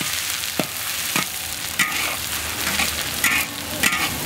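Minced ginger and garlic fry in rendered pork fat, giving a loud, continuous sizzle with a few sharp spatula scrapes and taps scattered through it.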